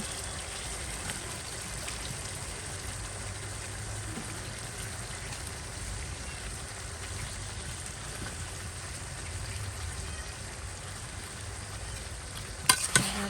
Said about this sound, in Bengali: এটাকে ভালো করে একটু মিক্স করে একটু সময় নিয়ে কষাবো